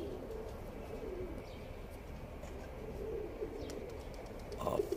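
Soft cooing of a pigeon on rooftops against a low outdoor hum, with a few brief calls and a louder flutter near the end.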